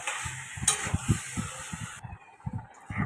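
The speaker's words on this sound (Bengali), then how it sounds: "এদিকে কিন্তু আমি চিকেনটা একা হাতে একটু ফ্লেমটা জোর দিয়ে দিলাম যাতে তাড়াতাড়ি সেদ্ধ হয়ে যায়" Chicken frying over a high flame for chicken kosha, a steady close sizzle with stirring scrapes and clinks pulsing through it, alone without talk.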